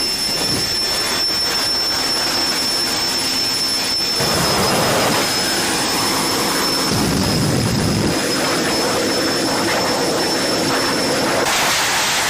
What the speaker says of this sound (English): Engine whine that makes you forget to breathe.